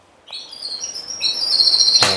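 Yorkshire and Gloster canaries in breeding cages chirp in thin, high repeated calls that build steadily over the clip, ending with a louder burst close by.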